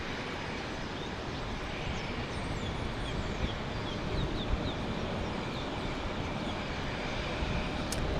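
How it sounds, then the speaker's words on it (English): Airbus A330neo jet airliner at Fort Lauderdale airport, a steady broad roar of jet engines heard from a distance, constant and fairly faint throughout. "An A330"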